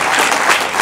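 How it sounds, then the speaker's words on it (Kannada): Audience applause at a film teaser launch event, a dense, steady burst of many hands clapping close and loud throughout the short moment. "ಚಪ್ಪಾಳೆ ತಟ್ಟು ಅಪ್ರಿಷಿಯೇಟ್ ಮಾಡ್ತಾರೆ"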